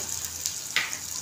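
Onions fry in a pan with ginger garlic paste added, a steady close sizzle over medium-low gas with a couple of brief clinks or stirs breaking through.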